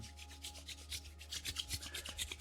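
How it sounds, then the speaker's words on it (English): Two hands rub together slowly and steadily, a soft rhythmic swishing of skin on skin, very quiet and close with no voices. "Slowly rub your hands together, make them nice warm"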